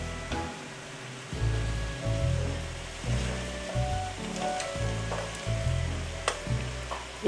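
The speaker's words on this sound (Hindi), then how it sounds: "इसे भी हम अच्छे से फ्राई करेंगे।" Cut okra frying in a pan sizzles steadily up close, with a low rumbling undertone and occasional light utensil taps, no voices present.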